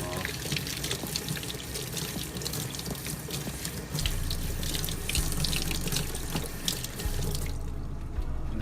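Tap water runs steadily over sneaker shoelaces being washed in a sink, a close, continuous gushing hiss that grows fuller partway through and then cuts off near the end.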